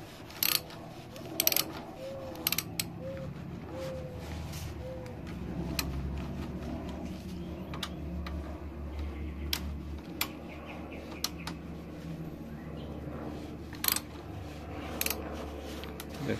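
A wrench ratchets and clicks in short bursts while bolts are torqued down on the brake caliper of a 2018 RadRover electric fat bike, with sharp metallic ticks scattered over a quiet, low hum.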